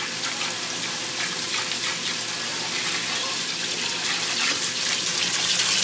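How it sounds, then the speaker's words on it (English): Cold tap water pours steadily into a pot of broccoli, a constant loud rushing splash with no break, and no voices over it. "So then you fill it with cold water so it can stop cooking."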